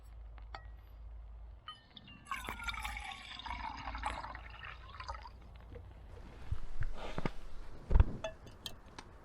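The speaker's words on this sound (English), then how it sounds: "We're gonna put us some water in here and get us a boil on." Water poured from a bottle into a cup or pot at a small survival camp stove setup, a quiet close trickle and fill sound with a few clinks and drips, faint and irregular against a still background.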